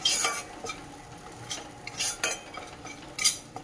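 Masala paste fries in a pan for a paneer and pea curry while a spoon stirs it, giving close, sharp scraping strokes over a soft sizzle, with no voices.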